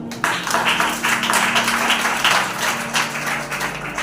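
Congregation at a Hindi Christian church service applauding together, a dense, steady wash of clapping held at even loudness over a low hum, with faint voices mixed in.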